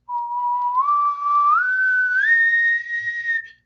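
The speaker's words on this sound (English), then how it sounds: "Whistling is a great way to raise the vibration, because whistling is literally vibration." A single person whistles one sustained tone that climbs stepwise from low to high pitch, clear, close and alone, lasting a few seconds.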